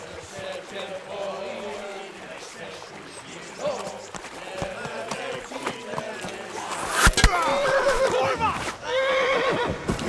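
Horses neighing and whinnying loose on a river bank in the video game Kingdom Come: Deliverance, with clip-clop hoofbeats, splashing and shouting voices mixed in, one louder whinny standing out near the end.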